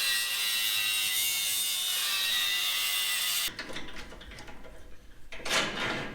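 An angle grinder grinds pinched, warped metal on a heavy off-road wrecker, a loud continuous high whine for about three and a half seconds that then cuts off into quieter clanking and one brief burst of grinding.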